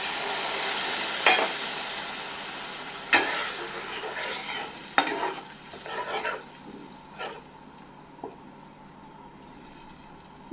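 Fried mustard-poppy paste sputters in a pan as plate-rinsing water goes in, giving a steady sizzle with a few sharp stirring scrapes and splashes spaced a second or two apart, no voices.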